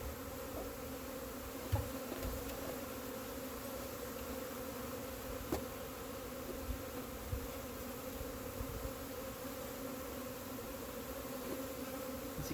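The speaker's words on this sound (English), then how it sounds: "There's bees actively bringing pollen into this hive." Honeybees swarm and buzz around an opened beehive during a spring inspection, foragers bringing in pollen; a steady, close, dense drone holds throughout with a few brief louder bumps.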